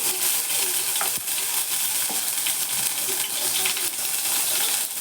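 Mustard seeds, cumin, onion and tomato paste sizzle steadily in hot oil for a raw papaya curry, a dense, continuous frying crackle with small pops, close and fairly loud throughout.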